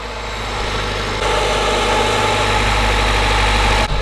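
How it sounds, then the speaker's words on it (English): A B18-swapped Honda CRX engine idles steadily and loudly, a constant low rumble that steps up slightly in intensity after the first second. "That sounds like a healthy engine"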